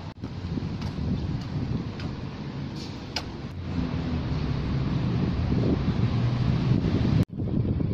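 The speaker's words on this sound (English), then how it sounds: "It's a bit windy, so I guess it's okay." Wind buffets the microphone in a steady, blustery rush on a hot day in the city of Sydney, stopping abruptly near the end.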